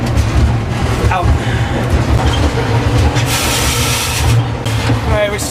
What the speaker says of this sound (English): On board the train.